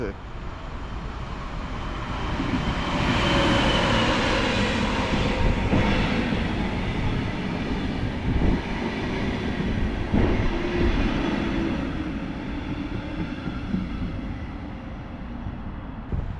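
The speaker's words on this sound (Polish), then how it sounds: "pociąg Lazur jedzie skład piętrowy z Działdowa do Warszawy Zachodniej, peron 9" A Lazur double-deck passenger train from Działdowo to Warszawa Zachodnia rolls into Warszawa Toruńska station: a loud, sustained rumble with rhythmic clicking of wheels over rail joints that swells, holds, and eases off.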